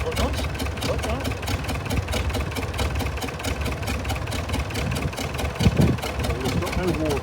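An old vintage tractor engine idling in a workshop yard, a steady rapid mechanical chugging with a regular ticking beat, close and continuous throughout.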